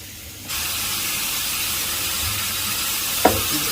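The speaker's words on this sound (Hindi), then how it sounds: "गोश्त को मैं अच्छी तरह ब्राउन कर रहा हूँ" Mutton browning in a pot for Afghani Kabuli pulao gives off a steady, close sizzling hiss that starts abruptly and holds evenly, with a brief clatter near the end.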